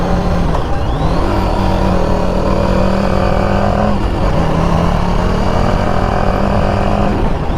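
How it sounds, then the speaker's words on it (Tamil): A car on a road trip toward Kodaikanal passes another vehicle, its steady engine drone rising with revving and wind roar throughout, loud and continuous with no talk. "அவர் அந்த வண்டியை ஓவர்டேக் பண்ணுறதே நல்லதுன்ட்டு ஓவர்டேக் பண்ணியாச்சு"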